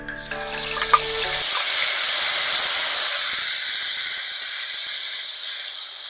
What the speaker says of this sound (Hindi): इसमें डाल रहे हैं सरसों का तेल, और फिर यहाँ सरसों के तेल में हम डाल रहे हैं जीरा और हींग